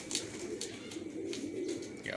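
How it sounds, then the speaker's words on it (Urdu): Shahjahanpuri pigeons, an old pure-bred line, coo softly in a loft, a low rolling murmur that repeats steadily, with a few faint higher chirps near the end. "یہ دیکھیں ہمارا شاہجہان پوری، یہ سب سے پرانے کبوتر ہیں ہمارے"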